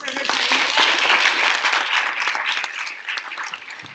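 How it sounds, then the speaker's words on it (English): A class applauds a guest speaker, a dense burst of clapping lasting a few seconds with some voices mixed in, gradually thinning toward the end. "Can we give Dr. Cobb a round of applause for her time?"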